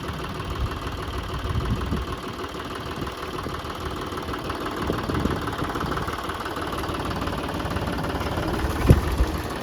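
A tractor engine runs steadily with a rotary hoe attached, a constant mid-to-low mechanical drone with faint knocking and vibration and one brief sharp clank near the end.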